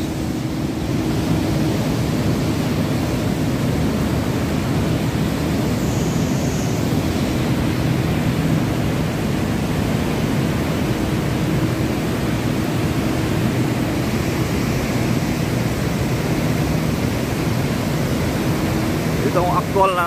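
Maria Cristina Falls, a waterfall at a tourist spot, gives a steady, broadband roar that fills the whole stretch without break, loud and continuous like heavy rushing water.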